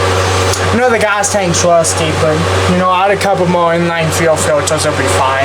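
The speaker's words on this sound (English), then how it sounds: "Sorry for the wind noise. I had the big fan going." A steady, rushing hum of a large fan blowing throughout, loud and constant beneath someone talking close to the microphone.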